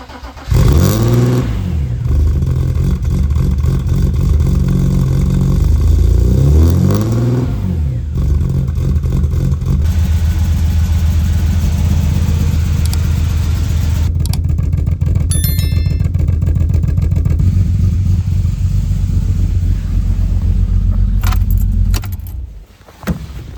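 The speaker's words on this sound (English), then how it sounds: "So now you can go ahead and start up the car" A car with an air leak started up: keys jangle in the ignition, then the engine cranks, catches and settles into a loud steady running hum that continues until it is switched off.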